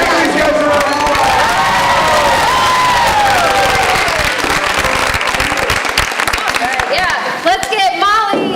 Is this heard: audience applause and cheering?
yes